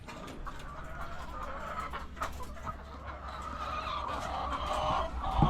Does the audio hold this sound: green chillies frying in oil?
no